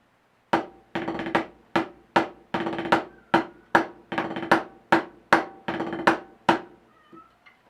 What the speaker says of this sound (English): a 7-stroke roll and 2 other hits combined into one rudiment